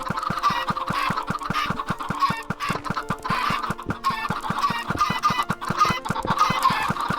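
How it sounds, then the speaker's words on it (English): A dense flock of Minecraft chickens clucking continuously over a steady rhythmic patter, busy and loud with no voices. "That's a lot of chickens."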